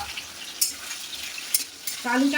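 Vegetables frying in hot oil, giving a soft continuous sizzle broken by a few sharp utensil clinks, then a louder, brighter spatter near the end.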